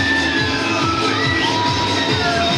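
Riders scream and shout together aboard a spinning centrifuge carousel at a 2017 town fair in Rezekne, a dense, steady crowd din of cheering and yelling that continues without pause.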